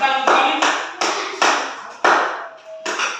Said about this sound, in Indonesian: Tepuk tangan untuk Alif.